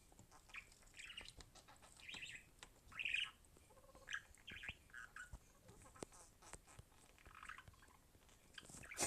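Several short bird squawks and chirps from the horror video game Granny 3 come in scattered bursts, fairly faint, mixed with light clicks and shuffling noises.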